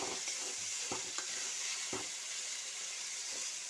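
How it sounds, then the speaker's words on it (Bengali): Spices, salt, turmeric and tomato stir-fried in a pan for a small tilapia fish curry with tender coconut, a low steady sizzle with a few soft spatula scrapes and taps, close but quiet, no voices. "দিয়ে এখন আমি মশলাটা ভালো করে আবার টমেটোটা কষিয়ে নেব।"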